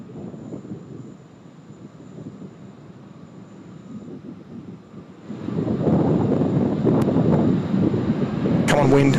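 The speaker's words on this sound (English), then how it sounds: "Come on, wind. We need the wind to drop." Gusty wind buffets an outdoor microphone at a Sydney Airport plane-spotting spot, a low rumbling roar that grows noticeably louder and rougher midway, with voices talking faintly underneath.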